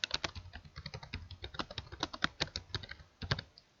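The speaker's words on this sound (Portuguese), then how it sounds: "vamos digitar o título Controle de" Rapid keystrokes on a computer keyboard as a spreadsheet title is typed, a fast irregular clatter of close, crisp clicks with brief pauses and no talk.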